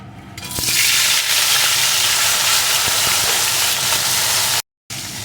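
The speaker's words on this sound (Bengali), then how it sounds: "এখন আমি লবণ হলুদ মাখানো মাছটা প্রথমে দিয়ে দেব" Fish coated in salt and turmeric dropped into hot oil, a loud steady sizzle that swells quickly after a quiet start, cuts out briefly near the end and then resumes.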